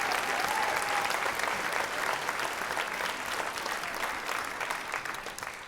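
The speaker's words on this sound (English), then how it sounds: "One more round of applause for their accomplishments." A graduation audience at the Lincoln West School of Health and Science applauds, a dense steady crowd clapping heard at moderate distance throughout, with a brief cheer-like tone near the start.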